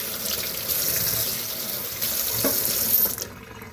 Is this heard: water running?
yes